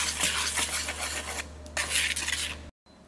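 Baking soda, baking powder and salt being mixed into dry ingredients in a bowl, repeated scratchy rubbing and scraping strokes of a utensil, close and alone, ending in a sudden brief silence.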